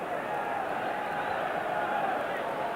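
A football crowd at a 1990 FA Cup third-round match between Nottingham Forest and Manchester United: a broad, steady roar of thousands of spectators, distant and sustained, with a live commentator talking over it.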